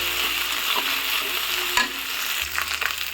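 Green chili, panch phoron and black cumin being stirred in hot oil, a constant sizzle with spatula scrapes and knocks against the pan, one sharper clatter partway through, heard close with no talking.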